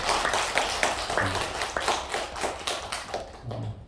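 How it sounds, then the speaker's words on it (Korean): A church congregation at a Sunday worship service claps to welcome a new member: a brisk run of hand claps, fairly close, with brief murmurs, easing off at the very end. "우리 박수로 환영하겠습니다."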